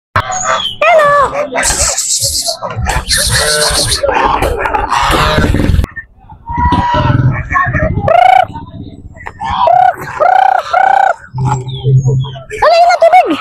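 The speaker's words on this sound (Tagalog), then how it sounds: "Oh, manok." Chickens cluck and squawk close by at a resort in Baras, Rizal, in loud bursts mixed with other animal noises, while people talk between the calls.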